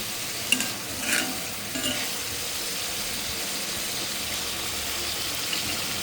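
Spices and shutki (dried fish) being stirred and sautéed in a pan, a steady low sizzle with a few sharp scrapes of the spoon near the start, close and continuous, no talking.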